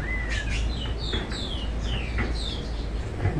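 Kept birds in a garden on a floating island in a central lake chirp and tweet in short, repeated, bright calls over a low background rumble, with no talk.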